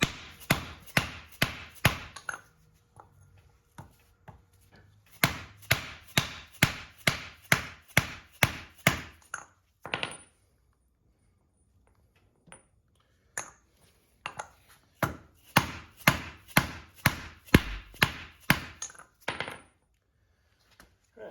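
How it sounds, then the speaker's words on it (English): Mallet driving a part in with a socket during a Toyota Supra 2JZ Mk3 build, sharp metallic taps in rapid bursts of about eight to ten strikes, separated by short quiet pauses, close and loud. "Get a good socket that you can go get it over the metal piece and then just push it in with the mallet."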